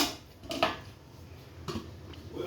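A metal lid is set onto a pot of mutton and potato curry, giving a couple of quiet clinks against the rim, faint and close in an otherwise calm kitchen.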